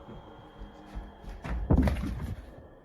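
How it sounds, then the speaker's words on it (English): A heavy thud from an adjoining room in a reportedly haunted house: a dull, muffled impact followed by a brief rumbling knock, moderately distant. "a loud thud sounds from the next room"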